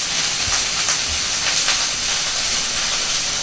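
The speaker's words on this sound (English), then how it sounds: "It makes a lot of those really good bacon noise." Bacon frying in a pan for chicken Marsala, a steady close hiss of sizzling fat with faint crackles throughout.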